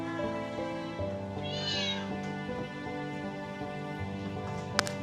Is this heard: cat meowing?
yes